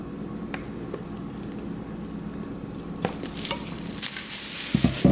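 Oil sizzles in a pan with oxtails, a soft steady frying hiss with faint stirring clicks, growing louder and busier toward the end as ingredients are stirred through; no talking.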